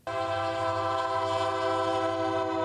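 A train sounds its horn at a road crossing on North Kyle Street in Scottsboro, a loud sustained multi-tone blast held steadily for the whole clip over a low rumble.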